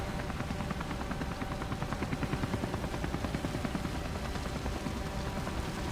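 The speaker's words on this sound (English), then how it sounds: "I'm in one of the helicopters" Helicopter flying in the Comanche video game played in VR, a steady loud rotor drone with rhythmic blade chop and engine whine, continuous and close throughout with no talking.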